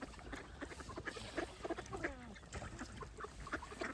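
Several ducks quack and chatter close by in quick overlapping calls, with a noisy outdoor background.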